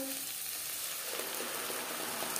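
Onions sizzling steadily in hot oil in a pan while preparing a potato fish curry, a constant bright crackling hiss with no pauses and no talking.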